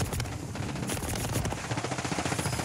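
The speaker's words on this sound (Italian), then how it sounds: "Ma che spari sul cadavere, Garcia, che fai schifo." Rapid video-game gunfire, sustained automatic bursts in a shooter match, loud and dense with no pauses and no talk over it.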